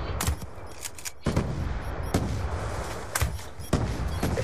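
Repeated sharp explosion blasts in Black Ops 2 burst over a constant rumbling background, several booms spaced about a second apart, loud and punchy, with no talking.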